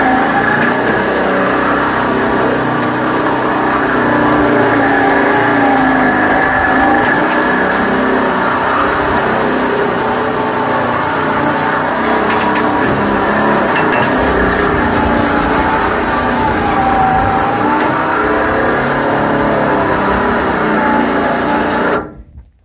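A 12V electric winch hauling a heavy load uphill, a loud continuous motor whine and gear drone that holds steady for about twenty seconds before cutting off abruptly at the end.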